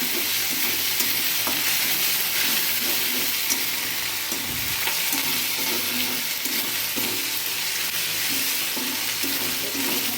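Spices sauté in hot oil for a bottle gourd and puti fish curry, a loud, even hiss and sizzle broken by occasional soft stirring scrapes.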